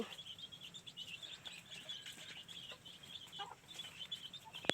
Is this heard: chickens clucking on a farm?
yes